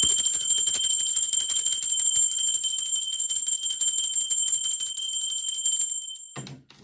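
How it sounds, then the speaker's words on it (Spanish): A bell rung steadily in a fast, sustained ringing roll, bright and close, keeping up for about six seconds before cutting off abruptly, followed by a faint clunk. "¡Va campana!"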